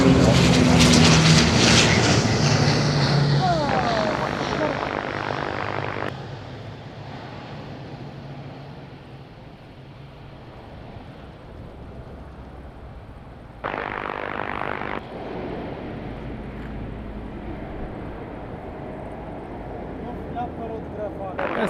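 An airliner landing at windy Madeira Airport on the island, its engines roaring loudly in reverse thrust at first, then fading to a lower rumble with a brief renewed surge midway, voices talking over parts of it.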